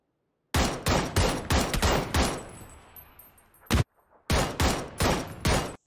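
Rapid bursts of video game gunfire ring out close and loud in a shooter match, with several sustained volleys, a brief lull of quieter rattling, then more repeated bursts.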